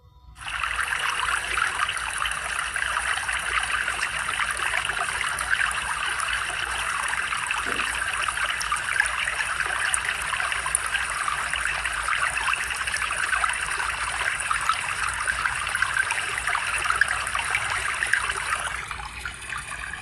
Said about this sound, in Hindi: नदी नाले बहने लग गए।